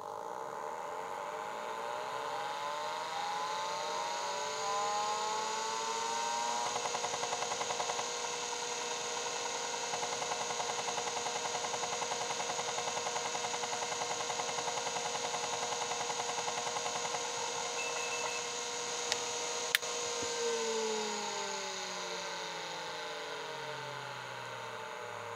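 An old MFM hard drive powering up, with a steady whine rising in pitch as the platters spin up, holding a constant hum at speed, then falling away as it winds down near the end, with a couple of faint clicks.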